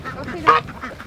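Homestead ducks give a short burst of loud, close quacking and honking. It rises briefly over a low background of softer calls, and no one speaks.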